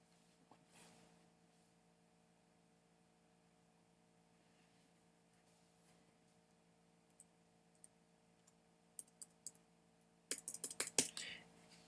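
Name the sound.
typing passwords on a computer keyboard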